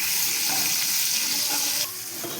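Fish frying in hot oil, sizzling loudly and steadily with faint clinks and stirring, then dropping slightly quieter near the end.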